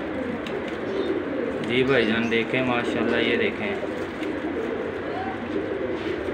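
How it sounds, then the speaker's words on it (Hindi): Pigeons coo softly in a loft in Lahore, low throaty warbles rising and falling under a voice speaking close by. "ये देख रहे सारे कबूतर माशाल्लाह बहुत अच्छे हैं"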